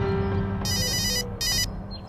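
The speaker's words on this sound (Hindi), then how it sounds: "अरे किसका फोन आ गया?" A phone ringtone sounding indoors in a Hindi drama scene, two bright electronic ringing bursts separated by a short gap, loud over a low background hum.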